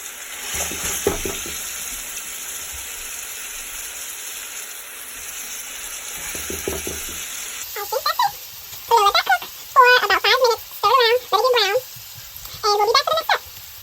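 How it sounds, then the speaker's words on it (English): Curry chicken sizzles steadily in a frying pan, a continuous hiss with crackling and occasional stirring. Partway through, a voice talks over the frying. "While that's frying up"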